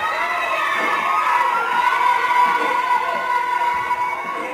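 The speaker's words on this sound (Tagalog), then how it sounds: "May sigawan ng mga fans nila." Fans scream and cheer in a studio, a dense, high-pitched crowd of shrill voices swelling and holding loud throughout.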